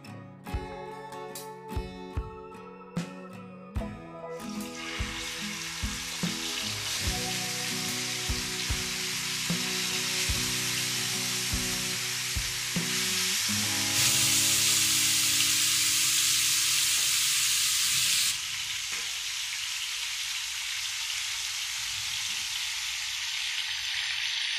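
Fish pieces fry in groundnut oil in a pan, a steady loud sizzle that starts with a few sharp crackles and swells into continuous spitting frying with no talking.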